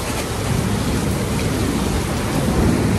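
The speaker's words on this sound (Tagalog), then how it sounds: "parang maka-cancel ang ganap natin ngayon kasi sobrang lakas ng ulan." Heavy rain pours in Taipei as a loud, dense, continuous roar with deep rumbling thunder filling the low end throughout.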